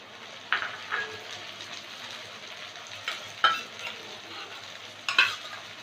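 Two chopped tomatoes added to lightly browned fried onions in a pan for a catla fish recipe, a soft sizzle broken by several sharp stirring clinks and scrapes, heard alone.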